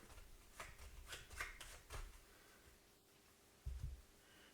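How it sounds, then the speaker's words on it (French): A deck of playing cards, an opponent deck in a board game, is shuffled close by in several quick riffling bursts, followed by a brief pause and a final soft shuffle near the end. "on remélange les cartes jouées et les cartes non jouées pour reformer un deck d'adversaires complet"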